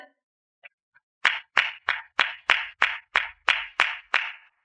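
Clapping breaks out at a graduation assembly. After a couple of faint taps come about ten loud, evenly spaced claps in a slow, steady rhythm, with no voices.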